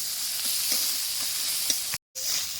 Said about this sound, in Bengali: এবার ভালো করে মশলাটা কষা নেবো যতক্ষণ না কাঁচা গন্ধ ছাড়বো ততক্ষণ